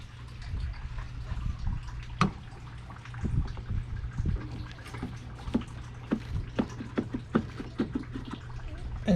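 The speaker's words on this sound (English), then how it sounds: "while the coolant is draining out of the radiator" Coolant drains from the radiator of a 2002 Toyota Highlander with an uneven stream of splashing and dripping, marked by scattered sharp drips and a few louder splashes over a low background hum.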